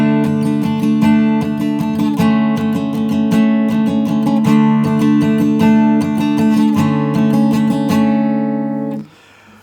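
An acoustic guitar plays the intro of a song with strummed chords in a simple, even rhythm, clear and close, ending on a final chord that is cut off abruptly.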